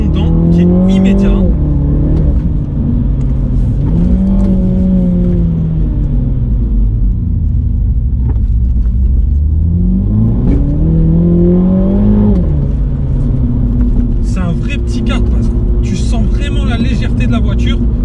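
Mini GP 2020 engine revs while driving, pitch rising and falling in repeated sweeps over a steady low rumble, loud and close, with people talking over it.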